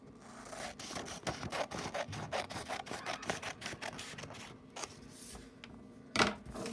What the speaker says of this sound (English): you're just going to cut that excess piece off that's there